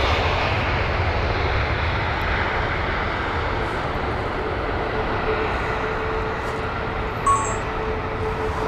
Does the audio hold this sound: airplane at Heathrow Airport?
yes